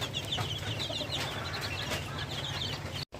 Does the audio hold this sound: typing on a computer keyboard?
no